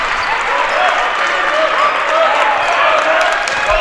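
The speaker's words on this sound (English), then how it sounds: "the fans that are here are cheering on the Trojans" Basketball fans at a high school boys game in a gym cheer and applaud in a dense, loud, continuous wash of clapping and crowd noise, with a commentator's voice faintly underneath.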